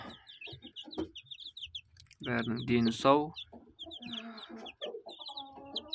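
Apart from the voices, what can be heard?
newly hatched incubator chicks cheeping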